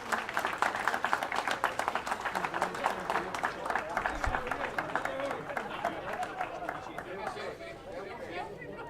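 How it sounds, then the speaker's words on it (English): An audience at a snooker finals day gives a round of applause, steady crowd clapping mixed with chatter and murmuring voices, continuing throughout at moderate level. "Can we have a round of applause for Craig Bradshaw for all his work he's done today"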